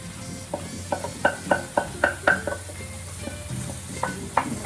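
A secret sauce for Hungarian bean soup goes into a hot pot, giving sizzling and a string of short stirring scrapes and clinks in an uneven rhythm that rise and fall in loudness, close by and with no talk.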